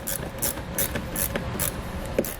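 A ratchet fitted with a 5.5mm socket clicks in quick repeated bursts at close range, tightening mud flap screws on a 2018 Ford F-250 Super Duty, with no talking.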